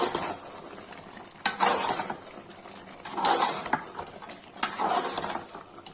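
Mutton curry with red chilli is stirred in a metal cooking pot, with scraping, clattering strokes coming in three distinct bursts over a low steady sizzle, close and fairly quiet.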